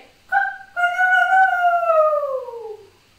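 Children's voices imitate a rooster crowing during a story yoga session: one short call followed by a long, rising then slowly falling crowing cry, near and fairly loud.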